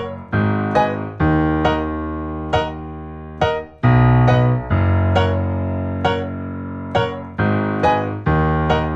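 Solo piano plays a variation of twenty one pilots' "Ride" with the right hand up an octave, steady repeated chords and a bass line struck in a regular rhythm, clear and close with no talking.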